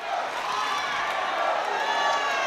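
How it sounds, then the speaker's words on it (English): Crowd at a boxing fight cheering continuously, a dense roar of voices with whoops, loud and sustained with a commentator speaking over it. "The crowd getting behind their local boy"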